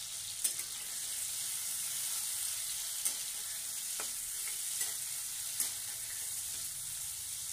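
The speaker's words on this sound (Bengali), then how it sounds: "আলুগুলো একটু ভাজা হোক" Potatoes fry in a pan of hot oil for a mild fish curry, giving a steady, close sizzling hiss broken by a few sharp clicks of stirring.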